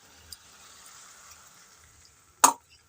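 Cabbage cooking with spices in a pan, a faint low sizzle that runs steadily, then one short sharp splash or clatter near the end.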